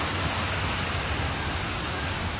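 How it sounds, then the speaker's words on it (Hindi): Water dropping from a height at a hydroelectric setup: a dense, steady roaring hiss of falling water, uniform and unbroken, with no voices. "फिर इस पानी को इस तरह से गिराया जाता है"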